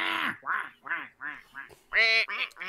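Human voices imitate duck quacks in a quick series of about seven nasal, close quacks, with the last few louder and higher.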